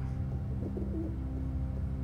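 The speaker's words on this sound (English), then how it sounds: "Pigeons?" Pigeons coo softly in the adventure video game The Longest Journey, a few low murmuring calls over a quiet, steady ambient hum.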